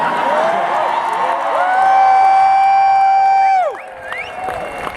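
A rally crowd in a parking lot in Reno, Nevada cheers and whoops loudly, several sustained shouted tones rising together over a dense roar before tapering into lighter scattered cheering.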